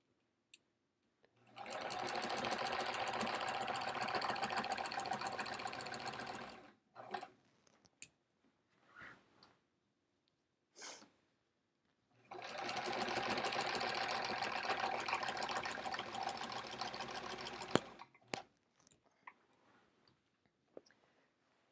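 A sewing machine quilting through thick, bulky fabric runs in two sustained bursts of rapid needle stitching, each several seconds long, separated by a quiet pause with a few faint clicks and handling sounds.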